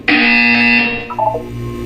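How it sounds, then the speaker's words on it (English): Buzzer in the video game Portal 2, a single loud, harsh electronic blast that starts abruptly and then fades out, with a short tonal blip near its tail. "You will hear a buzzer."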